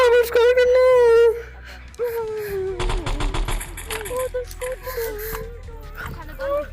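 Gunfire crackles in the video game Animal Rivals, bursts of shots cutting through loud game music and sound effects with overlapping voices, the heaviest cluster arriving midway.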